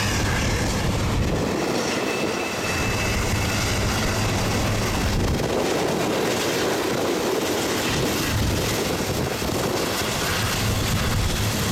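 A freight train with distributed power units rumbles past very close, a loud continuous roar of wheels and rail noise with faint clacking that fills the whole stretch, with no voices.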